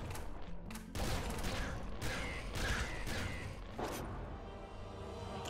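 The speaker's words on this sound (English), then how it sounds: "Auto splinter gun." The auto splinter gun in the Nuclear Throne video game fires in rapid bursts of crackling shots, a dense burst at the start, then further volleys, with no talk.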